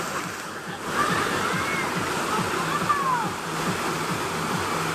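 Small waterfalls on a river, making a continuous rushing, splashing wash of flowing water, with faint voices and other background sounds mixed in.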